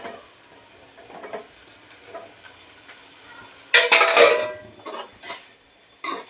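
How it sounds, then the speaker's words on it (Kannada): Ridge gourd frying in oil in a pan, soft sizzling in the background broken by sharp bursts of stirring and utensil clatter against the pan, close and fairly loud. "ಇದು ಕೂಡ ಒಂದು 5 ಮಿನಿಟ್ಸ್ ಫ್ರೈ ಮಾಡ್ಕೊಬೇಕು"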